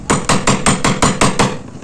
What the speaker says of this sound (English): and I flipped it to this other side and hit it with my hammer.